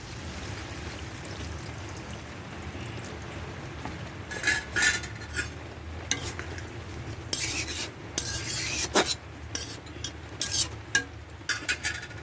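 Water is poured into chicken curry in a cooking pot, then a spoon stirs and scrapes against the metal, giving a steady wet churn broken by sharper clinks and taps, close up with no voices.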